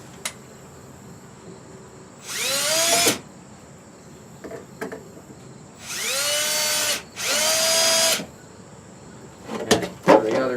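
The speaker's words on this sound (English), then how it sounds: "I'm just going to go ahead and start one of the screws on the table here." A power drill drives screws into a wooden hen nest box in three distinct bursts, each whining up and then stopping. Between the runs there are short taps and handling noises, and a steady background hum continues throughout.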